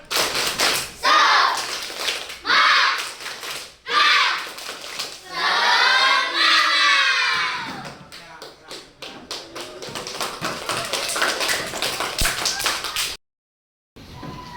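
Schoolchildren in a classroom perform a rhythmic spirit clap chant, loud bursts of group clapping in patterned beats mixed with chanting voices, ending in a short silence and a few softer taps.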